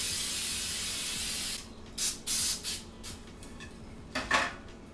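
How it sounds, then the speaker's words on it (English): Baking spray hisses in a long continuous burst into three round cake pans, followed by a few short, sharp puffs and light metal clinks of the pans nearby. "we're going to spray that with the 3 of these."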